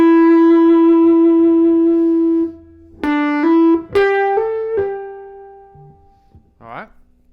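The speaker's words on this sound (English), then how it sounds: "we're going to hammer on and pull off" Clean electric guitar notes from a song's solo played alone: a held tone, then quick ascending notes with hammer-ons and pull-offs, ringing decay, and a short rising bend at the end.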